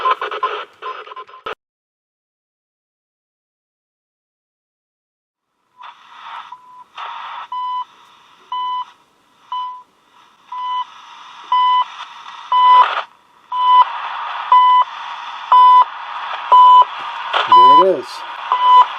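Shortwave time-signal station CHU received on a kids' Unelco shortwave radio: regular one-second beeps ring out clearly over a steady hiss of static, after a brief gap of silence near the start.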